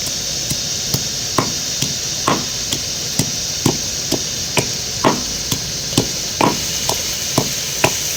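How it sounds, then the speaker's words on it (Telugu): Fresh ginger and garlic are pounded into a paste with a pestle while onions sizzle in a pan nearby, giving about a dozen sharp, evenly spaced thuds over a steady frying hiss. "అల్లం వెల్లుల్లి పేస్ట్ ఫ్రెష్గా నూరుకుందామండి"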